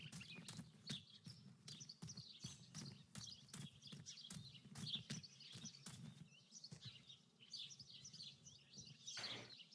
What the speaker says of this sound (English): I could photograph a sparrow. There are so many of them out here.